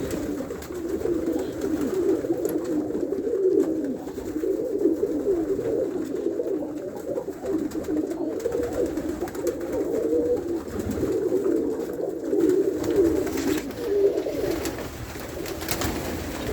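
Pigeons coo continuously in a loft, a low, throaty chorus of many birds close by, with a steady muffled room ambience and no talking.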